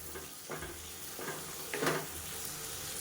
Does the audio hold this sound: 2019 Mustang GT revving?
no